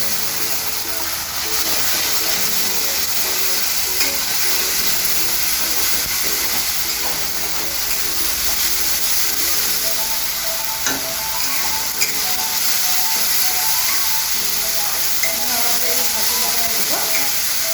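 Ground ginger, garlic and green chilli paste frying in a hot pan for an Assamese fish curry, a continuous loud sizzle and hiss with occasional stirring scrapes throughout.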